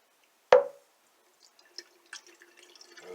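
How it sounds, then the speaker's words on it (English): Water rinses out a drink bottle used for grape-flavored energy drink powder, opening with a single loud splash followed by quieter, scattered drips and trickles. "So rinse out the bottle."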